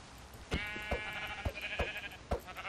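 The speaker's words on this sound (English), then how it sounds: "I'm gonna kill this sheep right here." Blocky sheep from the Minecraft video game bleat in a run of several short, clear calls spaced about half a second apart, close and fairly loud, with no talking.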